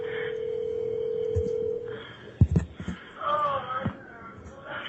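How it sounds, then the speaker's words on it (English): A telephone placing a 911 emergency call: a steady dial tone, then a few short tone beeps and clicks, close and clear, with faint breathy noise around them. "So on October 19th, 2019, a phone call was made to 911."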